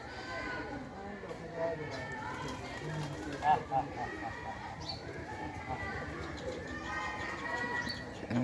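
A pigeon perched at a home coos softly and repeatedly in the background while a person talks over it throughout.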